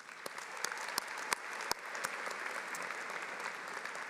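Applause from the audience at a 2024 Binghamton University Harpur College commencement ceremony: a steady wash of many hands clapping in a large hall, heard at a distance with a few sharper individual claps standing out.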